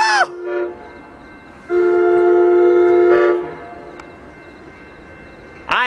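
An Amtrak Surfliner passenger train blasts its horn several times at Poinsettia Station, two long loud blares and short bursts, over the steady rumble of the train passing close by.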